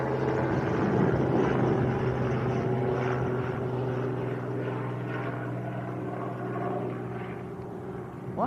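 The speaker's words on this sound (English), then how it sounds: "probably hear the helicopter." A helicopter passes directly overhead near Leeds Bradford Airport, giving a sustained droning rotor hum with faint rhythmic chopping. It is moderately loud and steady, then fades slightly toward the end, with no talk.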